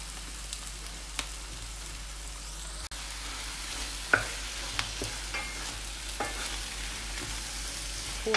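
Sheep intestines frying in a pan for kuyrdak, rendering out their own fat: a steady, close sizzling hiss runs throughout, broken by occasional sharp clicks and scrapes of a stirring utensil, with no voices.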